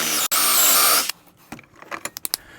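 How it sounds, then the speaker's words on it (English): A power drill bores a 1-inch hole half an inch deep into the top center of a cut wooden piece. It gives a loud, steady whir for about a second, then stops, followed by a few light clicks and handling knocks. "drill a 1-inch hole 1/2 inch down into the top of our piece, right in the center"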